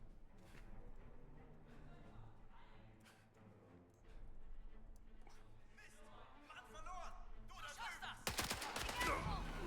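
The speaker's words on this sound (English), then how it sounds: "now we're just gonna shoot people" Video game gunfire, with scattered shots through a busy mix and a dense, loud burst of rapid fire near the end; a voice speaks over parts of it.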